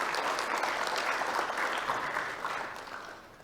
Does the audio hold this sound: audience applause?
yes